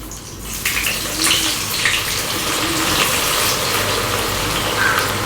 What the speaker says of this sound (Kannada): ಈಗ ಎಣ್ಣೆ ಕಾದಿದೆ, ಇದಕ್ಕೆ ಈಗ ಈರುಳ್ಳಿ ಹಾಕ್ತಾರೆ